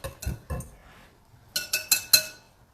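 Keto pancake batter being mixed gives a few sharp clinks of a utensil against a bowl, two early taps, a pause, then a quicker run of four ringing strikes, close and clear with no talk.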